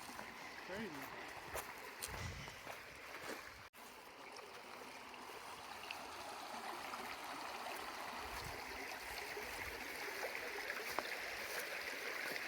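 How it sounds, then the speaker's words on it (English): Spring water runs steadily beside a creek bed near a cave in the Missouri Ozarks, a continuous broadband flow at moderate distance with faint human voices and movement over it. "it's like a whole nother spring over here next to that creek bed"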